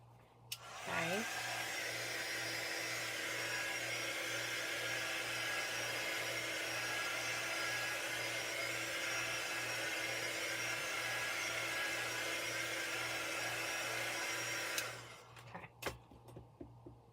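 A hair dryer blows steadily on a handmade fabric food wrap, a constant close whooshing hum running for about fourteen seconds before switching off.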